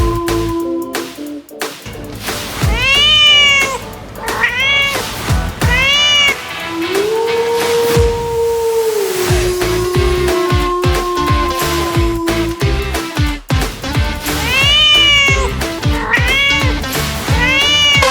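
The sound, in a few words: people imitating a cat meowing in a village game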